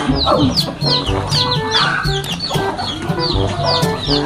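Close rooster clucks and squawks repeat in quick bursts, loud and busy, with a bit of background noise.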